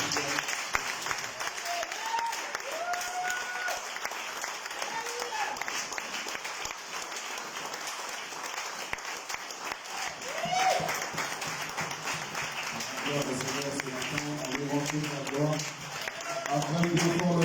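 Congregation applause at a Sunday church service welcoming the preacher, continuous dense clapping throughout, with voices and music-like tones mixed in underneath toward the end.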